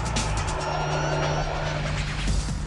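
A Hartge-tuned BMW X5 X50 drives along the road on wide 295-section rear tyres, its engine and tyre roar steady, loud and close throughout, with no talking heard.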